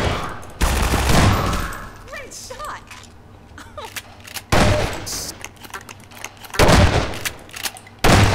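Bursts of gunfire in Half-Life 2 Episode 1, loud clustered shots in several volleys separated by quieter gaps, with brief talk between them.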